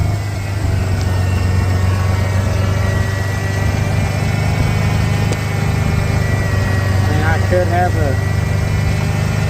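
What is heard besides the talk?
Ford Bronco engine idling after timing set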